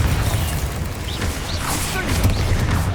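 Confringo spell blasts in Hogwarts Legacy combat, loud crackling bursts and whooshes over a dense, rumbling low-end backdrop lasting about three seconds.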